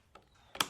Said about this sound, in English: And working the bolt hard, ejected the case easily.